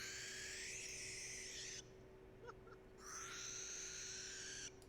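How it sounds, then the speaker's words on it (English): A barn owl screech plays back from a recording: two long, harsh, hissing shrieks, loud and close, separated by a short quiet gap, with no talking over them. "let's see what the barn owl sounds"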